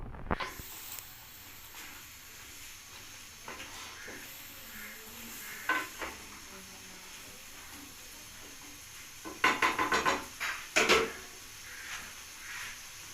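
Spices, including dry coriander, are stirred into mixed vegetables in a pan, with soft, faint scraping over a low sizzle and a few louder clusters of spoon-on-pan knocks.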